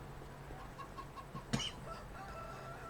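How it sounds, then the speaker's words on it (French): Hens cluck softly over a steady background hum, with one brief, sharper squawk partway through. "là déjà je commence par vérifier les poules."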